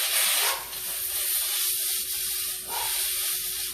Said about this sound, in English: I like to add just a splash of brandy at the end